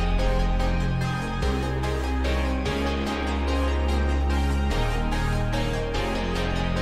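A spacious ambient synth melody with long reverb tails and echoing delay over sustained low pad notes, smooth and continuous without any voices.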